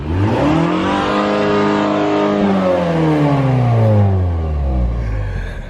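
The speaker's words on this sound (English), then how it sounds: "Don't we rev it in sport mode?" A 2022 Mazda CX-5 engine revs hard in sport mode, its pitch sweeping up and then falling back in one loud, close run, with no talk over it.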